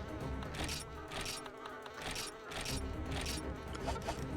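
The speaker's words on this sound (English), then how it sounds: "It really feels like we're in the Rotten Vale with the bee noise there" A bee's steady droning buzz in the Rotten Vale area of Monster Hunter Freedom, thick and continuous with pulsing swells, loud and close, mixed with game ambience and a faint voice.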